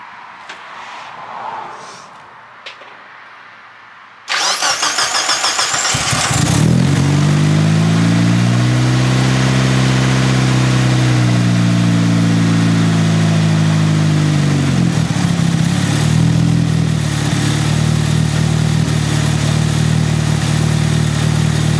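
A Mazda Miata fresh from a VVT swap cranks briefly and fires into a loud, close rev that settles into a steady, rumbling idle. Before the start there is a quieter stretch with a faint voice.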